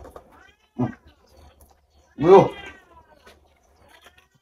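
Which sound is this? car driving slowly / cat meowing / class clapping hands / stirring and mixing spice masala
cat meowing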